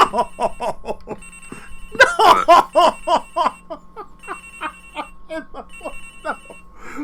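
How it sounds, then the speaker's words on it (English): A cell phone rings in repeated electronic bursts in the Ace Attorney Investigations video game, loud and close, with a voice talking and laughing over and between the rings. "The ringing's coming from in here, sir. What? No, it can't be. This has got to be the victim's cell phone."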